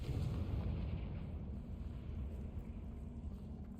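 A Confringo fire spell explodes in the video game Hogwarts Legacy, giving a deep, rumbling blast that fades over a few seconds, fairly quiet and with no talk.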